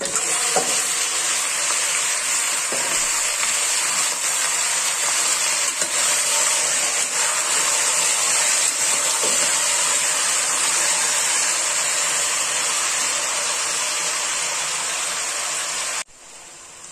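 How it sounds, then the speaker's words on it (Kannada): Washed mutton pieces sizzle and fry steadily in a hot pan for a mutton pepper gravy, a loud continuous hiss with a few faint stirring knocks, cutting off abruptly near the end. "ವಾಶ್ ಮಾಡಿದಂತ ಮಟನ್ ಇಲ್ಲಿಗೆ ಹಾಕ್ತಾ ಇದ್ದೀನಿ"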